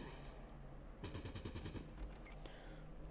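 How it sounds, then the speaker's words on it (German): Rapid gunfire from the video game Fallout Tactics crackles in a quick burst of about ten evenly spaced shots, followed by a few scattered pops, all fairly faint over low background hum. "Eis kann gerne mal schießen"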